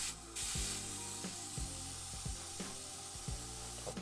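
An airbrush sprays paint onto a Games Workshop Space Hulk Terminator miniature with a steady, close airy hiss, broken by soft low clicks and taps.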